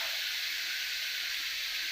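Onions and tomatoes with a pinch of salt sautéing in a pan for a Kerala chena mezhukkupuratti, giving a steady, close sizzling hiss with no voices.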